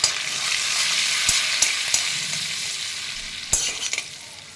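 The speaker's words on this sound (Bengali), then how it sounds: "একটু ভাজা ভাজা হোক কয়েক সেকেন্ড" Cumin seeds frying in ghee, a close, bright sizzle with sharp spoon clicks against the pan as they are stirred, fading slightly toward the end.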